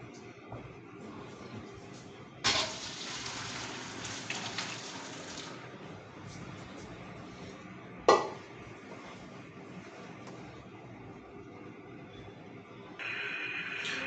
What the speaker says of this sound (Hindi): अब हम इसे स्ट्रेनर में आउट करेंगे ताकि पानी इनका सारा ड्रेन हो जाए